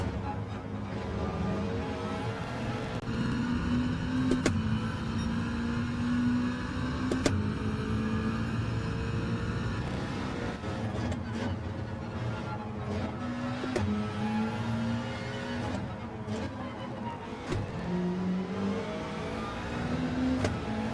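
Dodge Viper engine in a rallycross racing video game, revving and shifting with rising and falling tones throughout, steady and fairly loud with game effects layered in.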